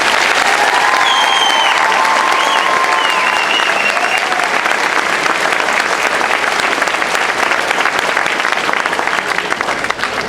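Sustained audience applause for teachers at a middle school 8th grade continuation ceremony, a dense, steady wash of many hands clapping close and loud for about ten seconds, with a few faint whistles or cheers on top.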